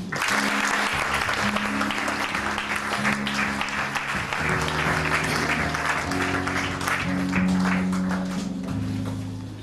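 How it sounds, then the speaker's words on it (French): A church congregation claps and cheers for Jesus at a deliverance service, producing dense, sustained applause throughout with voices and a held keyboard chord underneath. "Est-ce qu'on peut acclamer Jésus?"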